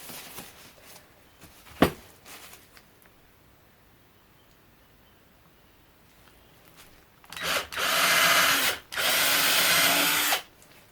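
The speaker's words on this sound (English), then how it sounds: "I'm just using a wood drill bit. It goes through resin really quickly." A power drill fitted with a wood bit bores through cured resin: one short whir early on, then after a quiet stretch two loud, close bursts of high grinding whine separated by a brief pause.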